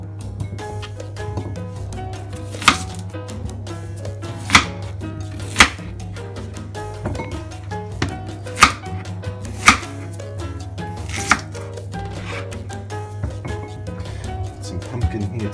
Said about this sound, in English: We're going to cut the potato into pieces